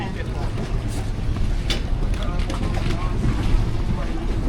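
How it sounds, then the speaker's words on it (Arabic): A boat cruising on Lake Como, with a steady low engine and water rumble under continuous wind buffeting the microphone, and faint voices in the background. "هنشوف المركب دي عامل ازاي."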